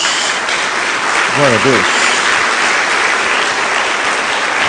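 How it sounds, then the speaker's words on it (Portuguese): Congregation applauding in church, sustained, dense clapping at a steady loud level while a voice briefly speaks over it. "Dá uma salva de palmas a Jesus."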